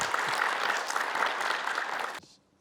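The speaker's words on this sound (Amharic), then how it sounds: "ሞቅ ያለ ጭብጨባ ለራሳችሁ" An audience bursts into warm, dense applause, steady and close for about two seconds before cutting off sharply into near silence.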